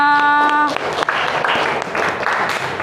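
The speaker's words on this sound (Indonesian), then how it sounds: "pada semangatnya tepuk tangan buat semua" Classroom applause from students, a burst of clapping that continues steadily for a few seconds after a brief voice at the start.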